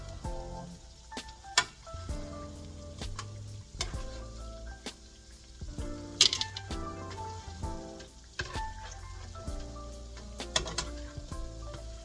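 Doughnuts sizzle and bubble steadily in hot oil, a continuous close frying hiss with scattered louder crackles and light clinks of a utensil, no talking.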